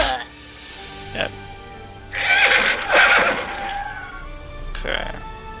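Horses neighing and whinnying in the fantasy strategy game Battle for Wesnoth, a couple of loud, shrill bursts mid-clip with shorter calls around them, with a faint clatter of hooves and combat beneath.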